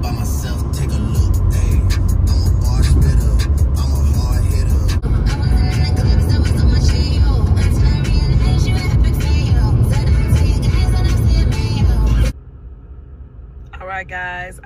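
A car drives up onto a highway, its steady engine and road rumble loud and continuous for about twelve seconds before cutting to a quieter interior with brief faint chirps at the end.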